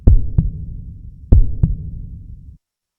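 A pounding heartbeat sound effect thumps in two heavy double beats, each lub-dub deep and loud with a hollow low rumble trailing after it, before cutting to silence.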